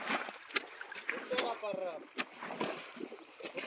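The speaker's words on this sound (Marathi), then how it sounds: "पाणी उपसत आहे इकडे पाणी चालू झालंय" Water gushing and sloshing as it is pumped out of a drying village stream or field channel, a continuous watery rush with splashy bursts, while someone talks over it nearby.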